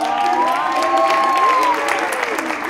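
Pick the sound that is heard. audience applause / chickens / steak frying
audience applause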